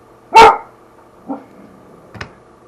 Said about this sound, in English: my dog just happened to start barking